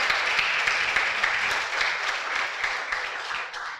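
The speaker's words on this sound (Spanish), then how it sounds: "Le da un aplauso de alabanza a Él." Church congregation clapping in praise during a sermon, a dense, steady wash of applause throughout, moderately loud, tapering slightly at the end.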